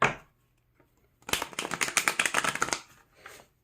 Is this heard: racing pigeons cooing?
no